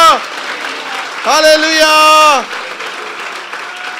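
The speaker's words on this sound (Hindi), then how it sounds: "उसके जलाल के लिए जोरदार तालियां बजा दीजिए" A church congregation at a Pentecost sermon applauds in a dense wash of clapping, while a voice rings out over it in a drawn-out shout.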